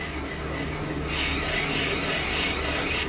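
Valve seat cutter scraping around an engine valve seat, a steady close rasping rub that turns brighter and louder about a third of the way through, continuing evenly with no voices.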